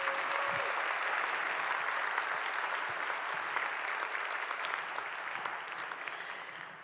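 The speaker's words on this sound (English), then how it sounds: "I think this is a good moment where we again give them a big round of applause" A big round of applause from the audience at a conference opening ceremony in Vilnius, with dense, sustained clapping from a large crowd that tapers slightly toward the end.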